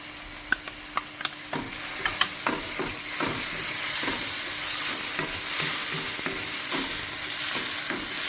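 Onions fry in a pan, with a few sharp clicks and taps early on, then a steady, loud sizzle as tomato is added. No voices are heard.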